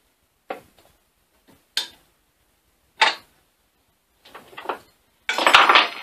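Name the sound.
metal lathe parts being reassembled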